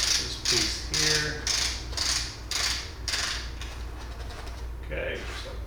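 A part being unscrewed from a 12 gauge Winchester SX4 shotgun while it is unboxed gives a run of repeated mechanical rasping and clicking bursts, close up, with a faint voice underneath.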